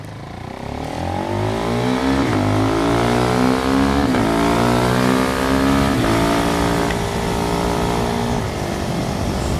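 A KTM Duke 390 single-cylinder motorcycle on Dunlop Sportsmart TT tyres revving hard while riding, its pitch climbing repeatedly through several gear changes, loud and close over wind noise.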